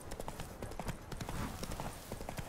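Horse hooves clip-clop steadily at a brisk ride in The Witcher 3 on PC, a close, continuous run of sharp hoof strikes over quiet background ambience, with no talking.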